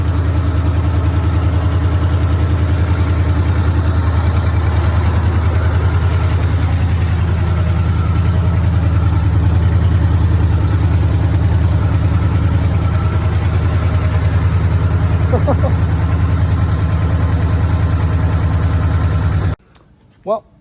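A loud, steady 1969 Pontiac LeMans V8 engine, parked since 1996, idles with a deep rumbling drone that holds constant for nearly twenty seconds, then cuts off abruptly.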